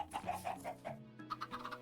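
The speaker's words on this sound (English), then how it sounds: "My chicken farm goes beyond the normal one." Minecraft chickens clucking in an automatic chicken farm, a quick run of soft, repeated clucks in close succession, moderately faint and alone without speech.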